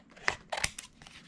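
Scissors snip through paper for chunky notepads in a few quick, close cuts, crisp and fairly quiet, with no voices.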